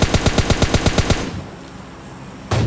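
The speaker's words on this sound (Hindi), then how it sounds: "तो मैं इस पर फायर लेता हूँ" Rapid spray of M4 rifle fire in PUBG Mobile Lite: about ten loud, evenly spaced shots in a quick burst, a short lull, then another shot starting at the end.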